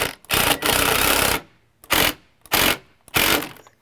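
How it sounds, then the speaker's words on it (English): A power drill drives 3-inch exterior screws into deck joist hangers in four loud, close bursts, one long run followed by three short pulses separated by brief pauses. "I'm going to put some 3-inch exterior screws in here just to help out to hold this"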